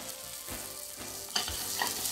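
A tuna melt sandwich frying in olive oil in a pan, giving a steady sizzle with occasional stirring scrapes and a brief louder crackle near the middle, close and continuous with no talking.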